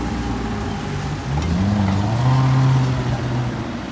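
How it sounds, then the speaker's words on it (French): An Aston Martin DB11 passes on a street in Saint-Tropez, its engine note a deep, rising hum that swells toward the middle and then eases off as it goes by at moderate loudness, with no talk. "Encore une belle Aston Martin DB11. Magnifique."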